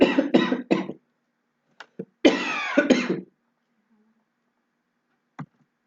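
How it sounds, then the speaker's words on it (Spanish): A lecturer coughs several times in a classroom setting: three sharp, close coughs in quick succession, then a brief pause and a longer rough burst, with a faint click near the end. "Disculpen la tos"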